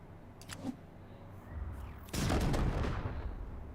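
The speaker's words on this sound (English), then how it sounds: "Let's toss a grenade." A grenade goes off in the post-apocalyptic game Wasteland 3, a faint thump early on followed by a heavy, loud blast that rolls on and decays over the last second and a half.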